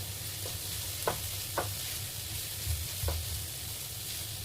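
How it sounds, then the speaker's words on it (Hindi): Onions frying in a pan for an Afghani-style chicken curry give a quiet, steady sizzle, with a few soft stirring scrapes coming through at intervals and no talking. "ये देखो प्याज अच्छे से भून रहा है।"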